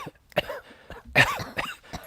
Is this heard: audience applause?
no